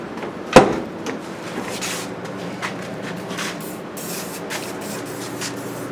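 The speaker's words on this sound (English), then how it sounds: "So he's going to spray it with WD-40." Short hissing bursts of WD-40 aerosol spray follow a sharp knock during car rear quarter panel and door repair, with quiet movement in between.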